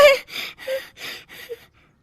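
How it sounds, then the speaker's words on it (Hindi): A man clears his throat loudly in an animated Hindi moral story, giving five harsh, raspy bursts in quick succession with short gaps. The bursts are close and stand alone before fading to quiet. "अपना गला साफ कर रहे हैं"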